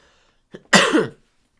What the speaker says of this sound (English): Oh, sorry, coughing it up.